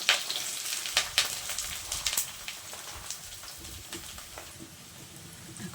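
Chopped chili, capsicum and onion fry in a hot pan for chola bhuna, giving a steady close sizzle. Sharp scrapes and clacks from stirring come in bursts early on, and the sizzle continues more evenly afterward.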